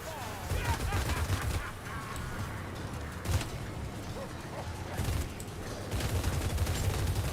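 A Skaven Ratling gun fires in Vermintide 2, a fairly faint, sustained rattle of rapid shots with a few louder impacts, under in-game noise and a voice speaking.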